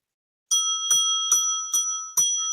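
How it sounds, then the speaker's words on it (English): A small hand bell rings five times in an even rhythm, each bright, clear strike ringing on briefly before the next, close and alone without talk. "every time I get a membership or a super chat, I'm going to ring the bell"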